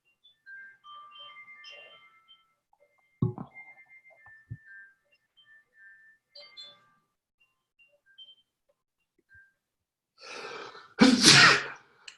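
A single loud sneeze bursts out near the end of an online class call, after scattered faint beeps and quiet clicks, sharp and close to the microphone.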